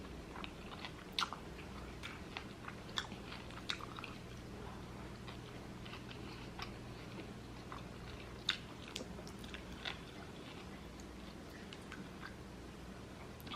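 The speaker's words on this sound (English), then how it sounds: "we're just gonna eat the meat, no more bun." Quiet close-up chewing of burger meat from a mushroom cheeseburger during a mukbang, soft wet mastication with scattered small crunchy clicks over a low steady hum, no talking.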